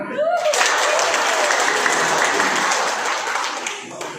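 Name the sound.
audience clapping together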